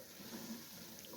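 Reserved chickpea cooking water is poured into cooked black chickpeas for a chana chaat, giving a soft, faint, steady wash of liquid, close by with no talk.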